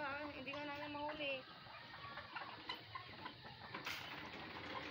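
Backyard chickens kept alongside ducks cluck a few times, faint and close, under a brief stretch of talking voices, with scattered rustling and small noises around them.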